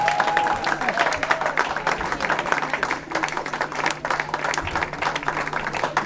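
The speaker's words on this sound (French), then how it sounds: "Les hommes acclamant ces femmes." Men applaud and cheer the women at a Congolese wedding reception, a dense, steady clapping spread across the room that continues throughout, with voices calling out above it.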